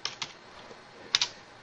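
A handful of crisp, scattered keystrokes on a computer keyboard while a machine name is entered in PowerShell at a workstation; faint clicks arrive in two small clusters with quiet gaps between, and no one talks.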